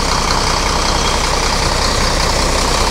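A bus diesel engine idles with its exhaust rumbling, a loud, steady, continuous broadband roar heard close with no change in pace throughout.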